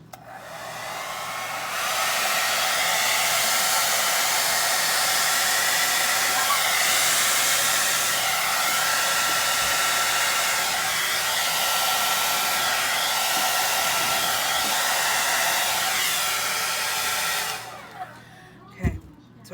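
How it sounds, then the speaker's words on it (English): A large electric blower runs steadily for about fifteen seconds, drying an acrylic pour of blue violet paint mixed with Floetrol on a tabletop, then cuts off, leaving a few faint knocks. "I'm going to use my big boy blower because this is a bigger project"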